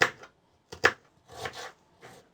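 A knife chops vegetables on a cutting board for a vegetarian Paraguayan pira caldo, giving a few quiet, separate taps with short pauses between them.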